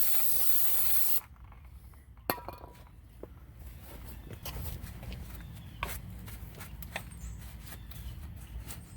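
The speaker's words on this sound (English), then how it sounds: "Like some brake cleaner." Brake cleaner sprays onto the brakes of a 2015 Toyota Camry in a loud, close hiss lasting about a second, followed by quiet garage ambience with scattered small clinks and taps.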